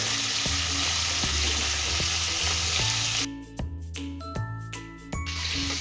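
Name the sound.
food frying in a pan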